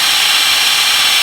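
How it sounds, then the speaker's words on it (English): Steady high-pitched whine of a drill boring a 1/4 inch hole into soft aluminum, loud and close, running continuously without a break for about a second. "As you can tell, drilling that was really easy."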